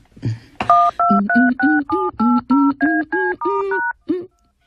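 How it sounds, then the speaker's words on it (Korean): A telephone is dialed: a rapid series of about eleven clear, loud touch-tone beeps in an even rhythm, then a pause and one last tone, with no talking. "전화 좀 걸고"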